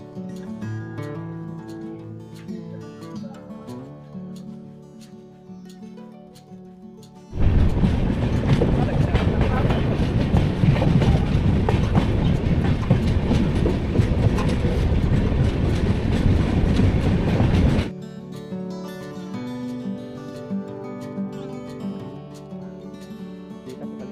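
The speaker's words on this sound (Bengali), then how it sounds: "ট্রেনটি পঁচিশ মিনিট লেটে এসে পৌঁছেছে এই বর্ধমান স্টেশনে" A train rumbles and clatters loudly past for several seconds as it arrives at a station platform at Bardhaman, its wheels clacking, with quieter background sounds before and after.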